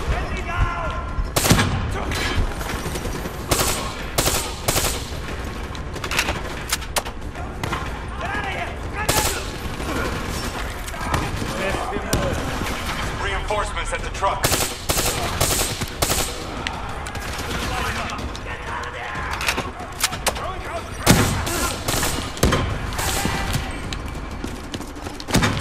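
Gunfire in Call of Duty Black Ops 3, with repeated loud shots and bursts of automatic fire crackling irregularly throughout a long firefight, interspersed with voices talking.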